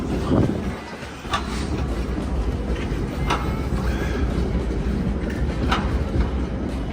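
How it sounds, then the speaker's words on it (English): An old tram, number 2, rumbles along city rails in Riga, a steady low rolling drone with faint rail clicks and squeaks close by, running continuously without speech. "Gotta love these old trams."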